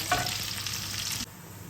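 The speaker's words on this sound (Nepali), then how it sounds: "यो माछा भुट्दै गर्दा" Dry fish sizzles and crackles in a hot pan for a pickle with dried mustard leaves, a steady close frying hiss that cuts off sharply near the end, leaving only a faint background hum.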